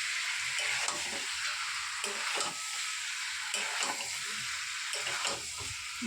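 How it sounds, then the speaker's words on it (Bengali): Chicken pieces fry and are stirred in a pan, giving a steady close sizzle broken by repeated scraping strokes throughout, with no talking. "চিকেনগুলো দিয়ে এবার ভালো করে আমি কষাতে থাকবো।"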